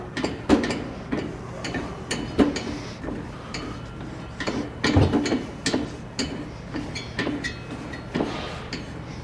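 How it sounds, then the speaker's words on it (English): A hand-cranked wallcovering paste machine roller turning through adhesive, steady ticking and ratcheting clicks in an uneven mechanical rhythm with a few heavier clunks, close and clear with no talking. "I'm basically going to turn the roller"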